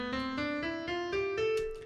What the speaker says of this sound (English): that is the sound of a minor scale.